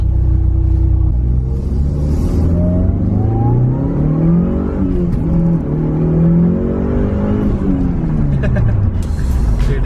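A turbocharged car accelerates hard from the cabin, engine note climbing through rising sweeps with a gear change midway and a steady loud rumble; a voice speaks over it.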